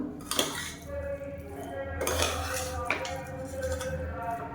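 Mint biryani being stirred from bottom to top in a pressure cooker, with several clinks and scrapes of a metal ladle against the pot over a steady low kitchen hum, close and moderately loud.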